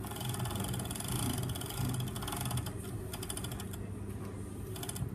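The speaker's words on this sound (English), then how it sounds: "we're just going to overlock our fly extension and our fly facing" An overlocker stitches a fly extension and fly facing for a fly-front zipper. It makes a continuous whirring hum with a fast, rattling mechanical rhythm, close and steady and without pauses, and no one speaks.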